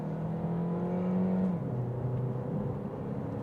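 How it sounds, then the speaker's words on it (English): A 2023 Kia Niro SX Touring hybrid accelerates in sport mode, a steady droning engine and road whir heard from inside the cabin, with the engine note shifting to a lower pitch partway through, no voices. "We can put it into sport mode, slow down a bit, push the gas."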